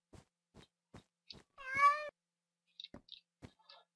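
A cat meows once in the Minecraft Mo Creatures mod, a clear drawn-out call surrounded by sparse soft footstep-like taps in an otherwise quiet game scene.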